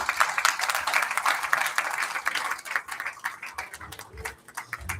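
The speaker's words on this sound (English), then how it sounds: "Let's give him a well-deserved round of applause." An audience at a company town hall gives a round of applause to an awardee, with scattered, uneven claps that thin out and grow patchier toward the end.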